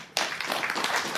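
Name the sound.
audience applause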